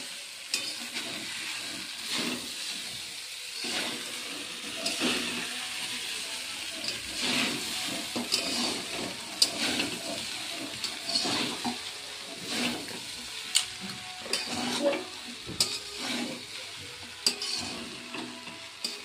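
Cooked rice is stirred and fried in a kadai, a steady scraping and soft sizzling with repeated spatula clicks and knocks against the pan, fairly quiet and continuous with no talk.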